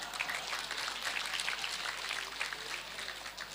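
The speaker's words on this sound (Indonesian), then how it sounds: "Tepuk tangan." Soft, distant applause from an audience at a civil servants' learning festival in Bojonegoro, a steady patter of hands lasting a few seconds with no talk over it.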